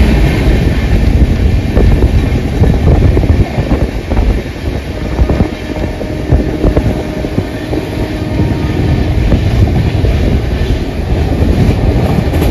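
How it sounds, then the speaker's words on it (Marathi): Amritsar-Kochuveli superfast train running at high speed after Jalandhar, with a steady loud rumble, rail clatter and wind rushing past, heard continuously from on board with no talk. "जलंधर नंतर ट्रेनची स्पीड एकदम कमालीची झाली आहे."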